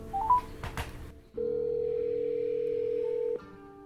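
Telephone handset sounds from an outgoing call: a few brief dialing beeps, then a steady, loud dial tone that holds for about two seconds before cutting off, with no voices.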